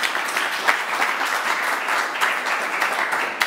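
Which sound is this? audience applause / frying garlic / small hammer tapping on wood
audience applause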